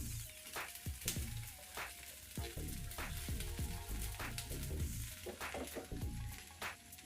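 Potato masala with a pinch of turmeric frying in a pan for aloo bonda, a quiet continuous sizzle broken by repeated scraping and stirring strokes against the pan.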